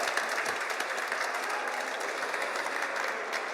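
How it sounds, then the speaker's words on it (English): A studio audience or small crowd gives a round of applause, dense steady clapping sustained throughout at moderate level, with no speech over it. "Yeah, round of applause."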